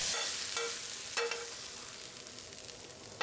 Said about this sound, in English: Now turn up the heat to high, add soy sauce, and stir for another 20 seconds before dishing them out.